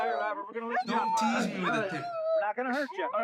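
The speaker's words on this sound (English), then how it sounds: "Bro, that's a dog, right? That has to be a dog." A dog barks and whimpers close by during a police traffic stop, high yelps and whines mixed through steady talk from officers and a man.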